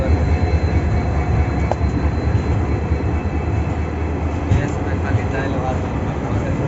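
The Shoranur–Nilambur Express rumbles steadily into Shoranur Junction with heavy low-frequency wheel and engine noise, loud and continuous, with faint metallic screeches now and then as it slows.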